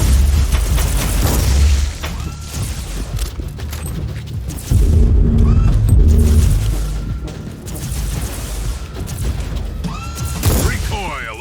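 Marauder bomber strikes in Warhammer 40K Inquisitor – Martyr: a series of deep, heavy booms and rumbling detonations mixed with clanking mechanical noise, while a voice talks over the bombardment.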